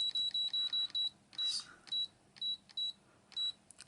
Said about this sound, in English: Oh, we seem to have gone back to having a beeper on now.